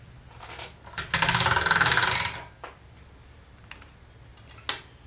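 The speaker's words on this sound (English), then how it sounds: "And then we'll run that through the pasta machine again." Polymer clay passes through a hand-cranked pasta machine in one loud, dense burst of mechanical whirring and grinding lasting over a second, followed by quieter faint clicks and handling sounds.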